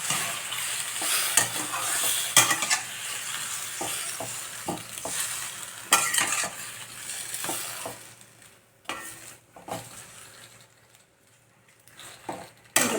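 A spoon scrapes and clinks repeatedly while stirring seasoned macaroni pasta with salt in a sizzling pan, close, with irregular stirring strokes over a soft frying hiss.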